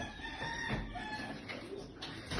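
Organic egg-laying hens cluck and a rooster crows faintly in the background on a small farm, against a steady hum of farmyard noise.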